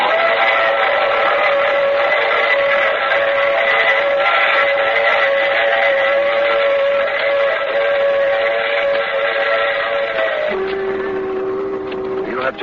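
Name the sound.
train running with whistle, radio drama sound effect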